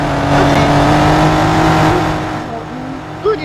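Car engine in the Roblox game Car Crushers drones steadily with a whirring, revving hum that eases off toward the end, heard alone without talk.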